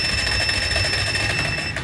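A Kawasaki Barako motorcycle's anti-theft alarm sounds a loud, continuous electronic beeping tone at close range for about two seconds, with no talking.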